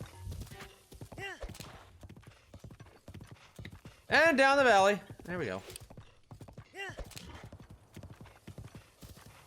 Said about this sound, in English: I wish I had a crappy horse too